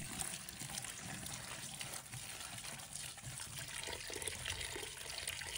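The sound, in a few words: washing napa cabbage under running water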